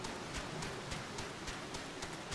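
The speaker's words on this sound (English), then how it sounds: "It's raining heavy." Heavy rain in the Final Fantasy XIV video game, a steady hiss of dense rainfall with faint rhythmic patters, low in level and continuous with no talking.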